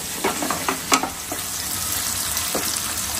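Ingredients sauté in a hot pan, a constant close sizzle punctuated by scraping stirs and clinks of a spoon against the pan, with no speech.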